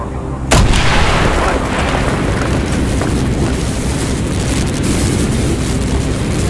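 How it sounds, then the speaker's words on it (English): In the Call of Duty: Black Ops video game, a loud explosion blows a hole in a wall, a sharp boom followed by a long, dense roar of debris and rumble that fills the rest of the scene. "Mason, blow a hole in that fucking wall."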